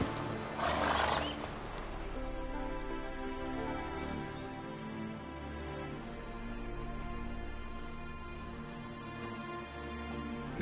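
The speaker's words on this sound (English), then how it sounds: "Whoa there, Roach." A horse in the video game The Witcher 3 gives a loud whinny near the start, then hooves clop steadily against a low, droning musical background.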